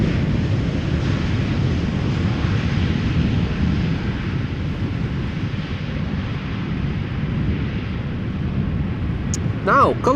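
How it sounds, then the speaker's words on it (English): An Arkia Airbus A321neo arriving at Amsterdam Schiphol on a flight from Tel Aviv gives off a steady, broad jet rumble that holds evenly throughout, mixed with wind noise. "the Arkia A321neo arriving from Tel Aviv"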